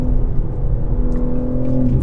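A 550-horsepower BMW M4 CS on a racetrack, its engine holding a loud, steady droning note with a slight rising pitch, heard close and alone without voices.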